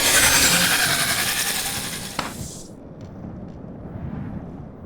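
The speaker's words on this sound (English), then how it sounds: "So yeah, Lava Fiend actually sounds like this when it dies." Death cry of a Lava Fiend creature in the game Wurm Online: a loud, harsh grating roar that fades out over about three seconds, leaving quiet background noise.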